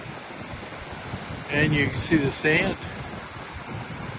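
Strong wind and surf on the Silver Lake beach in Michigan, a steady blustery rush of air and breaking waves with wind buffeting the microphone, someone speaking briefly over it midway.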